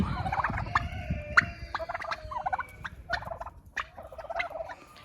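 Turkeys gobble repeatedly in bursty, overlapping calls, close and loud, while grazing outdoors on a farm, with a steady low rumble of background noise underneath.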